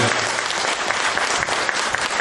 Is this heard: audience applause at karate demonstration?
yes